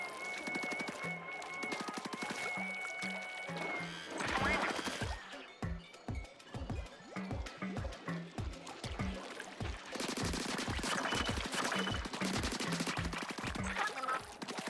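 Ink weapons fire in rapid bursts in a Splatoon match, with a dense run of repeated shots and splats over game music while voices talk.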